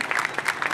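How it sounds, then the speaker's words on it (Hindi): Students applaud a police constable at a school cyber-crime awareness session, with brief dense clapping throughout the short stretch and no one talking over it. "तालियां बजाएंगे।"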